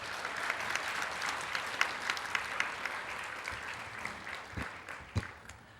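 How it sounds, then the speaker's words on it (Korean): Applause from a church congregation welcoming a pastor, a steady wash of many hands clapping at moderate distance for several seconds, with a few sharper claps standing out near the end. "큰 박수로 맞이하겠습니다."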